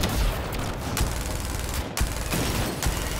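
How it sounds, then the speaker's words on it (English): Rapid bursts of gunfire aimed at an anti-air target in the video game Halo 5: Guardians, loud, dense volleys with a few sharp breaks between them. "I'm shooting the anti-air raid."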